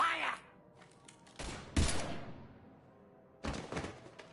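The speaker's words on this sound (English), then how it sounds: "Now open fire!" Gunfire in the video game Mass Effect, a few sharp bursts of shots with short silent gaps between them, loud and close, with no speech over them.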